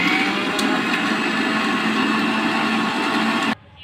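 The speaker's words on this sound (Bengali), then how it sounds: "এখন আমি সুন্দরভাবে এটা মিক্সারে মিক্সড করে নেব" An electric mixer blends black peppercorns for borhani with a steady, loud, close whirring grind that holds evenly, then cuts off abruptly near the end, with no talking.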